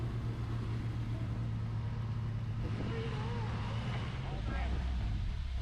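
A turbocharged Jeep Comanche crawling up a rock obstacle on an off-road trail, its engine droning low and steady with revving surges near the end, heard from nearby.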